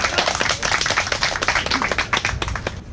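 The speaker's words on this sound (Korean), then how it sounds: "큰 박수 부탁드리겠습니다." Audience clapping outdoors at a black sea bream fry release event on the Dadaepo shore in Busan: dense, steady clapping from a modest crowd fills the whole stretch, close and lively.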